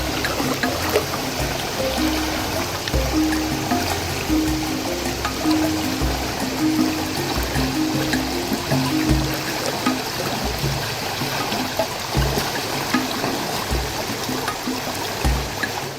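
A strong river current rushes steadily during a dive while spearfishing in extreme weather, a dense, continuous wash of water noise with occasional low thumps, loud and close throughout.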